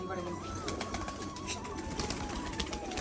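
Pigeons coo softly in a home loft, faint and steady beneath ongoing background noise.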